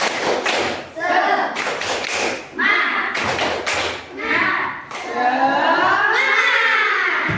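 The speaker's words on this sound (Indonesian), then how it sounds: "Oke, tepuk semangat." Schoolchildren in a fourth-grade classroom perform the rhythmic 'tepuk semangat' clapping chant, with patterned bursts of claps alternating with voices chanting in unison, loud and close.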